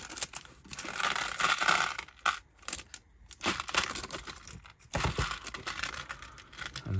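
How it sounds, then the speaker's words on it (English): A plastic screw bag from a Tamiya Mercedes-Benz C11 RC kit is cut open and handled, giving close crinkling, rustling and snipping bursts broken by short quiet gaps. "we just cut this screw bag open"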